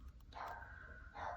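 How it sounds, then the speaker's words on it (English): A dog barks indoors a couple of times, muffled and distant as if behind a closed door, under a low steady room hum. "If you can hear the dog barking"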